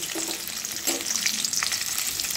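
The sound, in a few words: onions frying lightly in white oil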